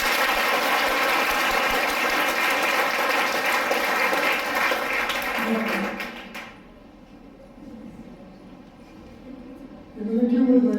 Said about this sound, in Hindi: मैंने क्यों बजाई ताली?